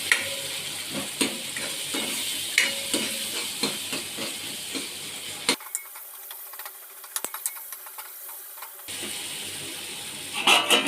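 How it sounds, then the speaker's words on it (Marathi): Prawn masala fries in a pan with a continuous close sizzle and occasional stirring scrapes, briefly dropping to a quieter hiss before the full frying sound returns. "चांगलं फ्राय होऊ देणार आहोत."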